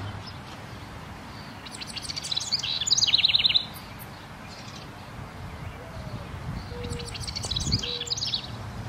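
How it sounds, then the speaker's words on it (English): Wren calling at a backyard nesting box: bursts of rapid, high chirping trills around three seconds and again near the end, fairly close, over a steady outdoor hiss with no talk. "Watch this clip of a wren using this box."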